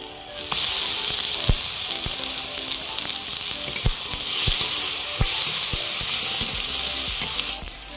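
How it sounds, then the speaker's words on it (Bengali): Green chili, onion and tomato fry in hot oil for a Rupchand fish curry with eggplant and potato. A steady, close sizzle continues throughout, with occasional sharp clicks of a utensil against the pan. "কাঁচা লঙ্কা পেঁয়াজ আর টমেটোটা ভালোভাবে গলিয়ে নেব"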